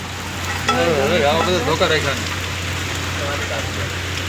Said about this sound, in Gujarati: તમે જોવો કેવો વરસાદ ચાલુ થઈ ગયો